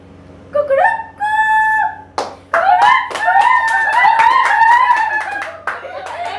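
A voice imitates a hen, giving a drawn-out call and then a run of rapid clucking bursts, loud and close, with a few sharp claps.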